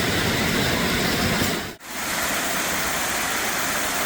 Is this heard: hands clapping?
no